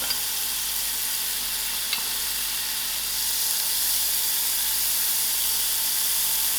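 Two tablespoons of margarine melting in a pan on a stove at moderate heat give off a steady, even frying hiss that swells slightly partway through, with a faint click near the start and no talking.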